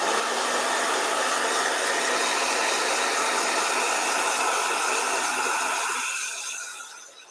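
A handheld blow dryer runs with a loud, steady airy roar for about six seconds, then shuts off and winds down to quiet.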